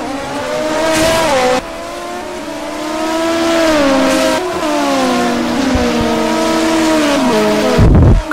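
Race cars in a PORRS race at Long Beach drive through a turn, engines whining loudly and continuously with rising and falling pitch as they brake and accelerate, close and dominant, with no talk.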